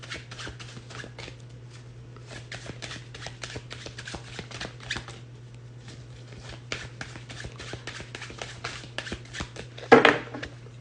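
A tarot deck is shuffled by hand at close range, giving a continuous run of soft riffling card slaps over a steady low hum, with a brief louder rustle near the end.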